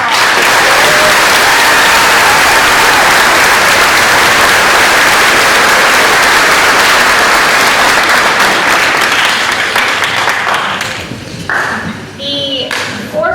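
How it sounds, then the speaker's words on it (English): A school promotion-ceremony audience claps in a loud, dense round of applause that continues steadily and then thins out near the end, with some voices underneath. "Please give these a round of applause."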